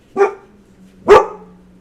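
A dog gives two loud, close barks about a second apart indoors, with a faint low hum in the background.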